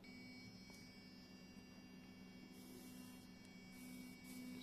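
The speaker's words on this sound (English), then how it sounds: "So yeah, it does vibrate quite a bit." A Xiaomi Mijia T200 sonic electric toothbrush runs with a steady, faint, high-pitched buzzing hum, holding constant the whole time over a quiet background.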